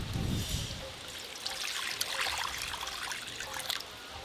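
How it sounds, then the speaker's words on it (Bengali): Water is poured into a pot to boil masoor lentils for dal, a close trickling splash that starts with a fuller gush and settles into a steady stream. "আমি ডালটা সিদ্ধ বসিয়ে দেবো। জল দিয়ে দেবো"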